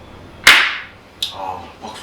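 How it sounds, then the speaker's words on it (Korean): A single sharp hand clap rings out alone in a quiet room, followed by a couple of softer knocks and light handling noises. "박수 한번 치고."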